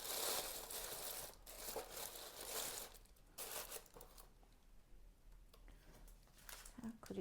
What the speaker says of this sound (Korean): 이렇게 구겨서 넣으실 때는 이 볼륨이 좀 살아있게